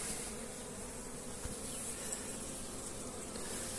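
Honey bees buzz around an opened beehive during frame inspection, a dense, continuous droning hum from many insects close by, with a faint tap or two.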